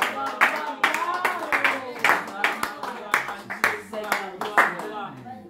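A church congregation claps in a steady rhythm during worship while voices sing and call out over it, the sharp, evenly spaced claps landing close and loud beneath the singing.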